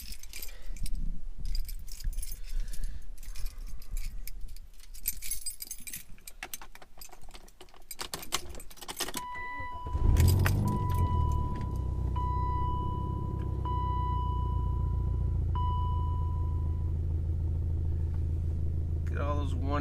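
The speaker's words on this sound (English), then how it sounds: "time to pull the car in." A car being pulled into a garage, its engine starting with a low steady rumble and idle after earlier jangling and handling noises, a faint tonal hum running beneath.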